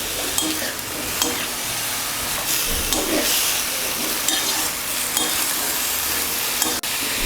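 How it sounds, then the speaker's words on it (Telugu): Ridge gourd pieces fry in a tempering while a spoon keeps stirring, giving a loud, steady sizzle with repeated scraping strokes against the pan and no voices. "మొత్తం పోపు అంతా కలిసేటట్టు కలుపుకోవాలి"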